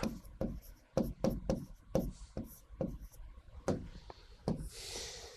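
Writing by hand at close range: a series of sharp, scratchy strokes comes in quick, irregular bursts, about a dozen distinct marks with brief pauses between them, and no talk over it.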